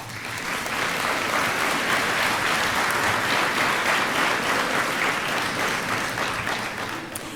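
An audience at a Holland College graduation ceremony applauds special guests, with sustained, even clapping from a large crowd filling the hall and tapering slightly at the end.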